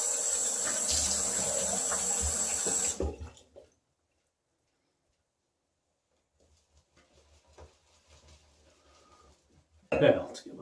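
Tap water runs steadily and fairly loudly into a sink as a razor is rinsed after shaving, then cuts off into near silence with a few faint handling sounds and a brief splash at the end.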